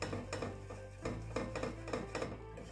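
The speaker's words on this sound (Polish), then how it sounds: "Zaczynamy mieszać tam, gdzie cukier jest już płynny." A metal utensil stirring melting sugar clinks and scrapes against a pot over medium heat in a steady rhythm of light knocks, close and fairly quiet.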